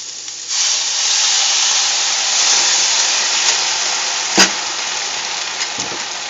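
Water is thrown into a hot pan of sautéing asparagus and sets off a loud, steady sizzle and steam hiss that holds for several seconds, with a brief clatter partway through.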